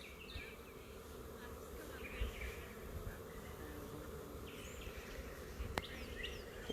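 Swarming bees buzz steadily outdoors, a dense close drone of many insects continuing throughout with a few faint bird calls in the background.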